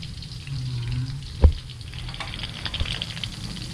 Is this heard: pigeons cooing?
no